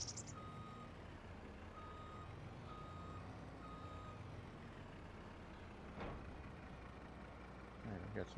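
A truck's reversing alarm in Farming Simulator 25 beeps in an even repeating rhythm over a steady low engine rumble, fairly quiet and in the background.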